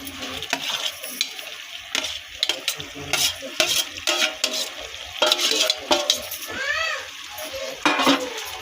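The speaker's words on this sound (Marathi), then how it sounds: "आता मी ह्याच्यामध्ये टाकते आहे आपण फ्राय केलेली भेंडी आणि बटाटा" Fried okra and potatoes stirred into masala in a pan, with a utensil scraping and clinking against the metal over a steady sizzle, close and fairly loud throughout.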